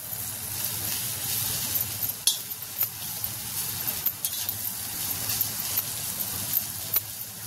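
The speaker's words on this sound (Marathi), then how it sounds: "आणि परत छान हलवून घ्यायचं।" Bombay duck and potato curry stirred in a pan, a soft continuous sizzle with a spoon scraping and knocking against the pan at irregular moments, close and moderately quiet, no voices.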